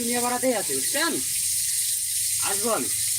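Fish frying in a pan gives a steady, fine sizzle throughout, sitting beneath a voice that speaks in short bursts over the cooking.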